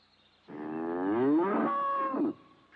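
A single cow gives one long, loud, close moo lasting about two seconds, rising and then tapering off, against an otherwise quiet background.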